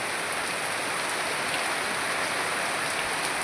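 Heavy downpour drumming on the tin roof of a house, a loud, unbroken wash of rain noise that stays constant from start to finish, with no voices.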